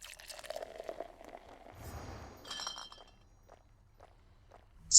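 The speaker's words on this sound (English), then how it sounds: "Such a satisfying noise effect, the sound of it pouring." Ambrosia pouring in the Hades II video game: a liquid glugging and trickling for a couple of seconds, followed by light glassy clinks and a few soft taps, fairly close and moderately loud, with no talk.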